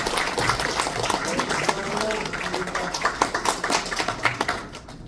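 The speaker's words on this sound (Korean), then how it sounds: "네, 박수 부탁드립니다." Applause from a seminar audience at a regional party strategy meeting, a dense patter of many hands clapping that swells, then breaks into scattered sharp claps as it fades out.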